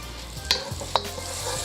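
Butter and oil sizzle in a hot pan on the stove while preparing chicken fried rice, a steady close frying hiss with a couple of sharp scrape or pop accents as the pan contents are moved around.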